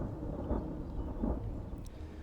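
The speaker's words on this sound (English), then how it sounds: "if the thunder is still loud, I can turn it down some" Low, steady rumble of rolling thunder with gentle swells, continuous and somewhat distant throughout.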